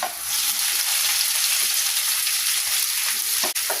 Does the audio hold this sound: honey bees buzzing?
no